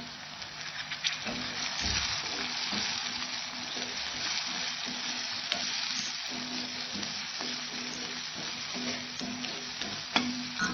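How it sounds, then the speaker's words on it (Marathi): Chana dal with turmeric, red chili powder, Kashmiri chili powder and garam masala sizzles steadily in hot oil in a pan, a continuous close frying hiss with faint occasional spoon scrapes. "छान तेल सुटेपर्यंत परतून घ्यायचं आहे."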